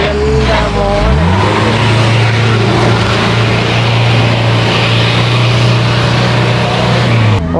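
An off-road truck at an off-road event rumbles with a loud, steady engine drone. The pitch rises sharply at first, then holds a sustained growl as it comes down a slope close by.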